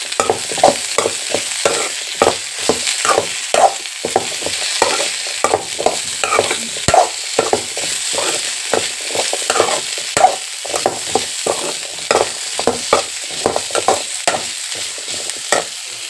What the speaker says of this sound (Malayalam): നമ്മുടെ ഉരുളക്കിഴങ്ങ് കൂടെ ഇട്ട് കൊടുക്കണേ. നല്ല രീതിയിൽ ഇതൊന്ന് മിക്സ് ചെയ്യണം.